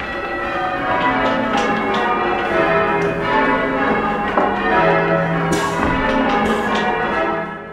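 Church bells ring in a tower during a first rehearsal, starting with the treble, their loud overlapping metallic tones sounding one after another with long ringing decay and no talk.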